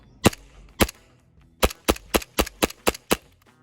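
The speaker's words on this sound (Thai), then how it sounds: "โอ้โหอันนี้ยิงแบบรัวๆหมดเลยนะครับ หมดแม็กเลย" Steel EMG John Wick 3 TTI STI 2011 pistol firing rapidly: two spaced shots, then a quick string of about seven sharp, loud reports emptying the magazine, with no talk.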